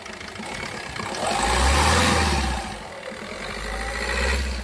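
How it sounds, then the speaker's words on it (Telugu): A 2017 Maruti Suzuki Ertiga ZDi diesel engine revved on the accelerator, rising from a close idle into a swelling roar, easing back, then climbing again; no talking. "కొంచెం ఎక్సలేటర్ వేయాలి."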